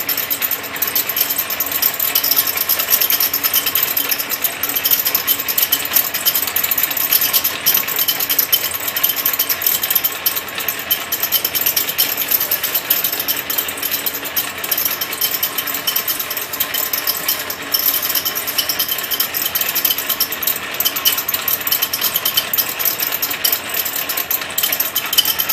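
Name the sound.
Potdevin LM series label gluer running, label fed through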